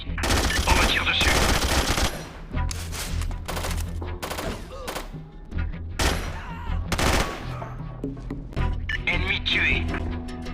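Dense bursts of automatic gunfire and rapid shots from the tactical shooter SOCOM Fireteam Bravo, loud and sustained through the clip, with in-game voices talking over the firing.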